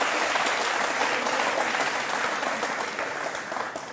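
An audience in a televised political discussion gives sustained, dense applause, steady and fairly loud, fading slightly toward the end.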